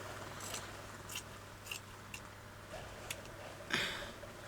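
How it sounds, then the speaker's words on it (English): Scissors snip through fabric being cut up for a recycled vintage-style handbag, a handful of quiet, close crunchy cuts spaced about half a second apart over a faint steady hum. "I'm going to cut a bit off here."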